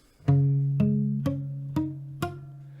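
An acoustic guitar picks five notes of a chord from a song one at a time, each plucked firmly and allowed to ring into the next, close and clear with no talking.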